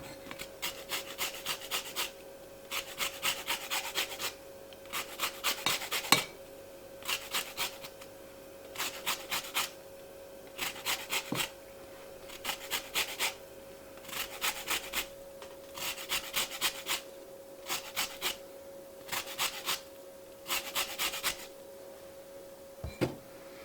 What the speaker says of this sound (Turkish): Şimdi şöyle e, limonumu rendeliyorum.